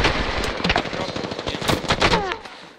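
Rapid bursts of SMG fire in a shooter video game crackle loudly and close, with short pauses between volleys before fading out at the end.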